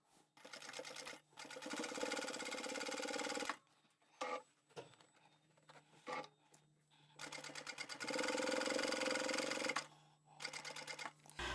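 A sewing machine stitches a bag lining in loud, rapid mechanical bursts of several seconds each, separated by short pauses and brief start-stop runs, close by with no talking.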